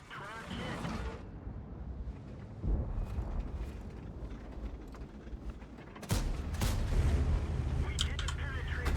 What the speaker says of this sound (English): I hate the salvo so much.